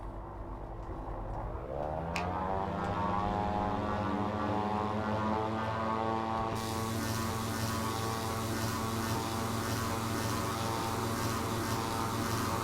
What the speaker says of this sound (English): let's go ahead and take off, and we'll jump up right over the beach here and over the Atlantic coast